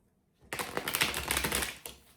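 Tarot cards are shuffled by hand in a quick run of close, crisp riffling clicks lasting about a second and a half, then stopping.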